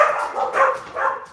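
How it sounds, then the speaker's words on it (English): Several hounds barking indoors, three loud close barks in quick succession with a slightly whiny, yelping edge. "stop barking"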